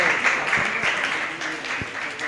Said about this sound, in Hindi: ताली बजाओ उनके लिए।